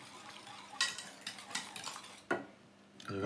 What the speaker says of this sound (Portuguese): O leite, assim que estiver quente, juntamos metade. E vamos mexendo bem.